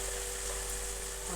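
Chopped tomatoes, chilies and green garlic with spices frying in a hot pan give a steady, close sizzle throughout, with no talk.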